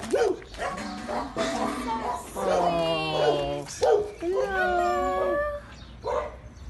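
Dogs at a dog shelter housing 75 dogs bark, howl and whimper, with long wavering cries and yips mixing close by while a person talks over them.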